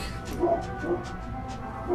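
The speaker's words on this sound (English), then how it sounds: "You upset the dog." An upset dog whimpers in a few short, high whines spaced apart, heard close against a faint steady background hum.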